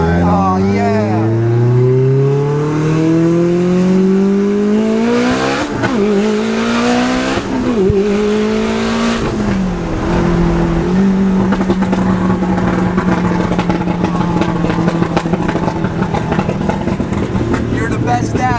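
Audi R8 with a V10 engine pulling hard, the engine note climbing through several gear changes with brief drops between shifts, then holding a loud steady roar, with people talking over it.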